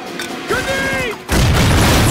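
A grenade going off in a movie action scene, a sudden loud burst that cuts in after a stretch of tense music and lingers as a rough, broadband roar.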